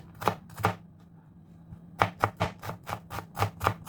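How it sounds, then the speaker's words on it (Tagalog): Onion being minced with a knife on a board: two quick chops, a short pause, then a steady run of sharp, close knife strikes with no talking. "I-mince lang natin mga lodi"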